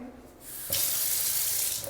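A tap turns on and water runs into a stainless steel kitchen sink beside a black marble counter, a sudden loud rush that holds steady after a brief quieter start.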